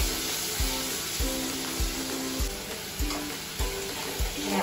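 Ginger, garlic, onion and tomato paste with asafoetida fries in a pan, a constant sizzle punctuated by regular rhythmic scraping strokes roughly every half second as it is stirred, close and clear.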